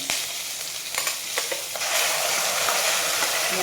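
Ground pirandai paste frying in hot oil with asafoetida and curry leaves, a dense crackling sizzle that swells louder partway through, with a few spoon scrapes early on, close up and without talking.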